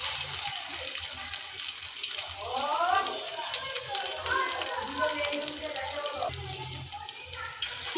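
Steady hiss and crackle of prawn and red lentil fritters frying in hot oil, continuous and close throughout, with a voice talking over it.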